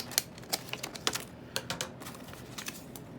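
Scissors cutting through a paper envelope, close and fairly quiet: a steady string of sharp little snips and clicks, evenly spaced, with no one speaking.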